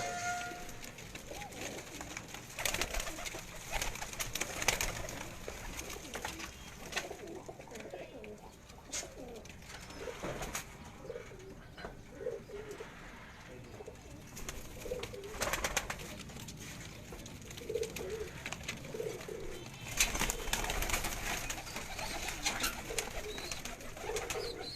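Breeder pigeons coo in a loft at Jalalpur Bhattian, soft repeated throaty calls close by, with bursts of wing flutter and shuffling and a faint hum of distant background noise.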